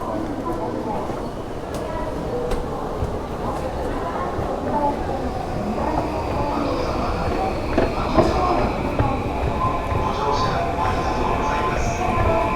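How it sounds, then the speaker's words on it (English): A subway train arrives at Akihabara station in Tokyo, a steady rumbling rail noise with clattering and squealing building slightly over time in a busy underground platform, with people talking nearby. "I think the train is here"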